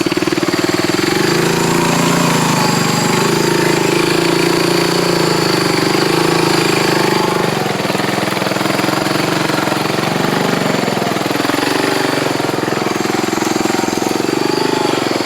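A Honda motorcycle engine runs loud and steady during a test ride, its throbbing drone rising and falling as the throttle changes, with no talking.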